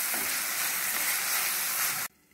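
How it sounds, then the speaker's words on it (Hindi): Tomatoes fry in a pan on low heat for Sindhi dal pakwan, giving a steady, close sizzle that stops abruptly just before the end. "और इसको आँच धीमी कर देंगे और इसको टमाटर गलने तक हम पकाएंगे।"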